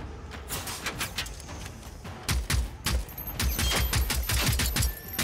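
Gunfire crackles in the video game Generation Zero, dense overlapping bursts of rapid shots rolling on without a break, heavier and louder in the second half, with no voices over it.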